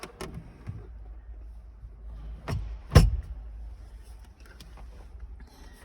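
A Lamborghini STO's glove compartment pushed shut inside the cabin, giving one sharp, close thud after a softer click a moment earlier, set against a low, steady background rumble.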